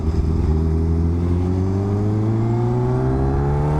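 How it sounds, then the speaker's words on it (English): A Kawasaki H2R motorcycle engine revs loudly and close, its pitch climbing smoothly in a sustained rising whine layered with strong harmonic tones. "the H2R noises are just on another level"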